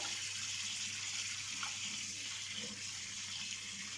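Tap water runs steadily over bitter gourd being washed in a strainer, a continuous close splashing wash with no talk over it.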